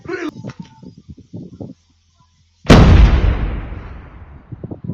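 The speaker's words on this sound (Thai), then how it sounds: "Enemy has dropped a bomb." Thai voices chatter and call out during a video game, a brief hush falls, then a loud, booming bomb blast erupts and fades into a long rumbling tail as the talking returns.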